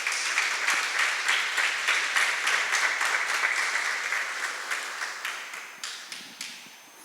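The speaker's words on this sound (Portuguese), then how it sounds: "Vamos dar uma salva de palmas para Jesus." A congregation in a church service applauds in a sustained burst of steady clapping that gradually thins out, ending in a few scattered individual claps, with no speech over it.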